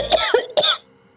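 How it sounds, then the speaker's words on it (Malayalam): An elderly woman coughs in short, loud bursts, about three harsh coughs close to the microphone, followed by near silence. "എന്താണ് പെട്ടെന്നൊരു ചുമ?"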